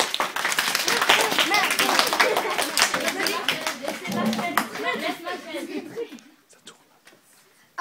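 Classroom audience claps for student performers after a school play, a dense burst of hand clapping that thins out and fades near the end, with children chattering underneath.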